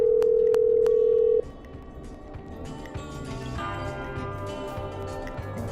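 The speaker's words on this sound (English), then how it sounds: "I'm dialing" A telephone dial tone in the video game Killer Frequency hums steadily, then cuts off into the quiet, busy texture of an in-game line connecting, with soft background noise underneath.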